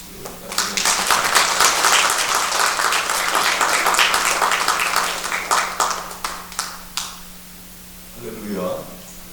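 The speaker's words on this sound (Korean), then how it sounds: "환영하는 박수 부탁드립니다." A church congregation gives a welcoming round of applause for a visiting pastor at an installation service, dense clapping that thins to scattered claps and fades, followed by a brief voice.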